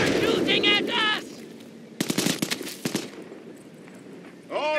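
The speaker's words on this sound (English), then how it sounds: "They're shooting at us!" Bursts of rapid machine-gun and rifle fire crack out in a World War II real-time strategy game, Company of Heroes: Opposing Fronts, with shouted soldier voices before and after the volleys.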